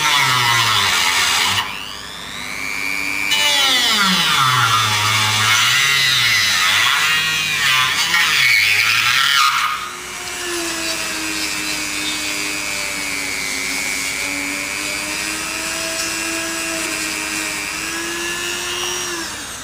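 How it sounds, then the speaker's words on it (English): A handheld Dremel rotary tool cuts into foam to clear out a GoPro fin plug hole: a loud, high whining buzz whose pitch sags and rises as it bites, then settles into a steadier, slightly lower drone. "I'm going to use this Dremel to cut the rest of it out."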